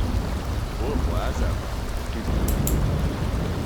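Steady rain with low rumbling thunder from a thunderstorm in a farming video game, a continuous broadband wash with a couple of brief sharp crackles near the end.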